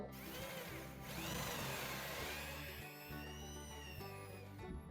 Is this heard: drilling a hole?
yes